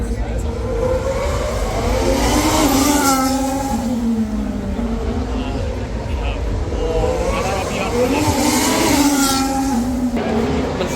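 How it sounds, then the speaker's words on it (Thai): Formula 1 race cars roar past a trackside fence, their engine pitch sweeping up and down in two loud, close passes over a continuous rumbling background. "ดังมาก ดังมากทุกคน แล้วเป็นเหมือนแบบรถแข่ง"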